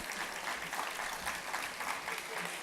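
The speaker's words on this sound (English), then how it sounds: "Give yourselves a round of applause." Guests at the Georgia Association of Black Women Attorneys 2018 Glitter Gala and Auction give a round of applause, a thick, continuous clapping from a large crowd, fairly distant and even throughout.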